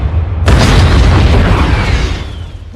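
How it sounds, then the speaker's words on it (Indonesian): Landmine detonating in an action film, a single sudden loud boom that bursts into a broad roaring blast and slowly fades over about two seconds. "lalu meledakkan ranjaunya tepat di depan bebenguk si Yuli, hingga membuatnya tewas"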